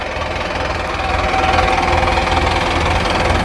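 A tractor engine driving a rotavator runs steadily and loudly with a dense, rumbling mechanical clatter, no voices present.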